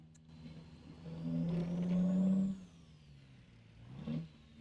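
An International ProStar truck engine in a truck driving game rises in a revving swell and then drops back to a low hum. A shorter rev follows near the end, with no talking.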